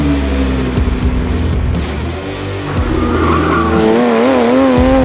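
A Toyota Supra lapping a small race track, its engine droning loudly and steadily while the tires squeal in long wavering tones through the corners, close and continuous with no speech.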